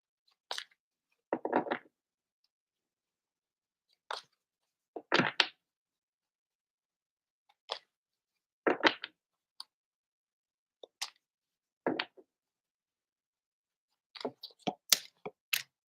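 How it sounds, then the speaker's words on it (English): Playing cards being shuffled by hand at a magic session, heard as short crisp riffling bursts separated by silence, close and fairly quiet, with no talking. "So I'm shuffling for green."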